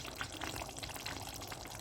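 Water is poured into a cooking pot of Ethiopian chicken stew (doro wat), a soft, steady splashing trickle heard faintly and close by without talk.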